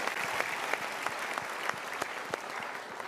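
A studio audience claps steadily and loudly in continuous applause at a talk show, with no voices over it.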